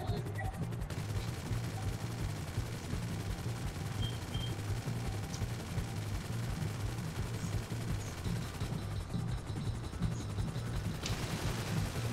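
A helicopter in GTA 5, its rotor a steady, dense, pulsing drone that holds for the whole stretch, with no talk over it.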